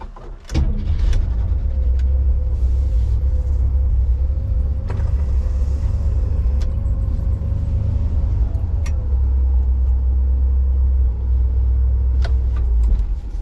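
A 1962 Cadillac Sedan Deville's original 390 V8 with Hydramatic transmission idles and drives with a deep, steady low rumble, close and loud, with a few clicks and knocks over it.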